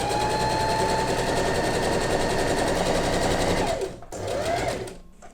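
Sewing machine stitching fabric along a seam line to gather ruffles, a fast continuous mechanical whir close by that slows and stops near the end.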